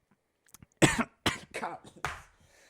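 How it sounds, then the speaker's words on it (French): A few sharp coughs close by, a strong one first then softer hacking bursts, with brief pauses between them and no talking. "Pourquoi je tousse à chaque épisode?"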